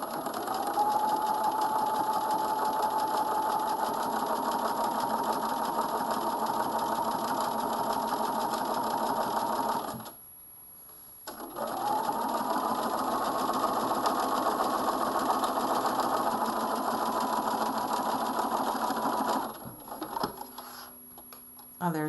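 A sewing machine edge-stitches along a coat seam, running steadily for about ten seconds, pausing briefly, then humming on again before stopping near the end.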